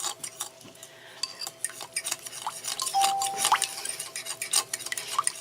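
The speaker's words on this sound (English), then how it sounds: "I'm just going to keep on stirring it" A spoon stirring a strawberry spinach salad mixture in a bowl until the sugar dissolves: rapid, close clinks and scrapes of metal against the dish in an uneven rhythm, no voices.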